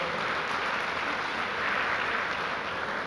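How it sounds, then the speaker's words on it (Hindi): An audience at a CA institute summit in India applauding to welcome three expert speakers, with steady, dense clapping from a crowd that holds throughout. "तो आइए जोरदार तालियों के साथ हमारे तीनों एक्सपर्ट्स का स्वागत किया जाए।"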